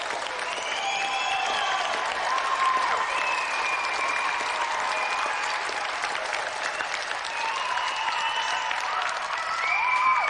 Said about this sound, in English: So let's have a final round of applause for Jamie Brown and tonight's special guest,